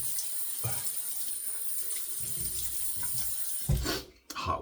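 Hot water runs from a tap into a sink for wetting the face before a shave with a single edge razor, a steady close splashing flow that briefly cuts out near the end.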